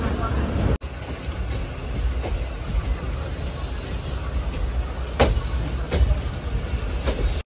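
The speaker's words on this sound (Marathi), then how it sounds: "ट्रेन आली आहे दिव्याला" A train rumbles steadily at Diva station, a low continuous drone with faint squeals and clatter, a few louder knocks breaking through near the end.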